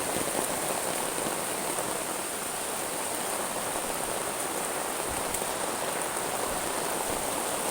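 Heavy rain pours in an unbroken dense wash over a muddy, waterlogged rural trail, steady and close with no pauses, faint insect chirps blending into the roar and no voices.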